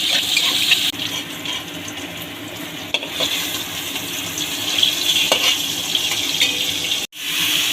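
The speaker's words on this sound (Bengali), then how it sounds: "ছোলাগুলো আমি তেলের উপর দিয়ে ভেজে নিচ্ছি।" Chickpeas frying in hot oil while cooking shukto: a steady, loud sizzle and bubbling that continues without a break, with a few stirring clatters and a sudden cut near the end.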